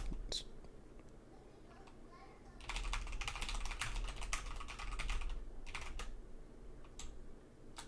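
Rapid clicking keystrokes on a computer keyboard come in bursts, most dense in the middle, heard close against a quiet room with faint murmuring in the background.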